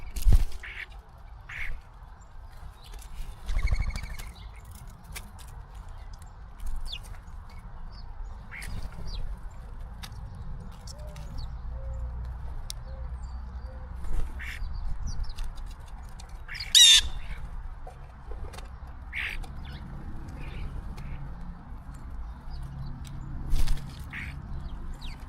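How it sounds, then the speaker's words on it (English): A blue jay screams outdoors near a camera where squirrels and birds feed, giving scattered harsh, loud squawks separated by quiet gaps over a low background hum. "Blue jay screaming."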